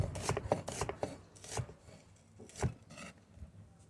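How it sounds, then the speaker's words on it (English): A knife chops raw onion on a board for Peruvian ceviche: a dozen or so crisp, close knocks in an uneven rhythm with brief pauses, heard alone without talk. "I'm gonna cut a bit more because at the end I'm gonna put some like raw onion on top of it"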